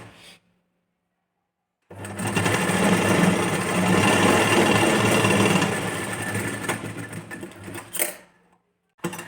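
A sewing machine runs steadily for several seconds, stitching a folded fabric strip for a princess-cut boat-neck blouse. The whir is close and loud, then stops abruptly, followed by a brief click.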